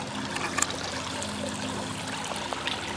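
A brook trickles and babbles steadily while someone walks along it on a hunting-season scouting trip in the woods, water noise constant and close with a few light knocks.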